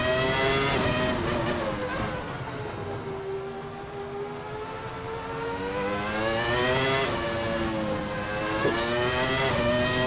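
Ferrari F310b Formula One car in the VRC racing game, its engine screaming at high revs. The pitch sags through a corner and then climbs again as the car powers out, loud and close throughout.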